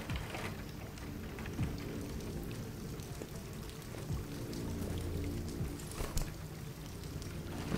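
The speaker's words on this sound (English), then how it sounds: "She's been standing in the rain all this time." Steady, fairly loud rainfall pattering across surfaces in the video game Detroit Become Human, a continuous wash of drops with no voices.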